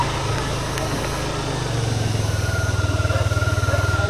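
A motorcycle engine runs close by as it rides downhill on a rural road after a funeral, its steady low putter growing more pulsing and rhythmic toward the end, with faint background noise.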